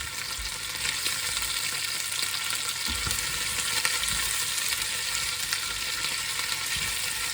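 Red onion frying in a pan with a steady, close, continuous sizzle and occasional low knocks from stirring throughout.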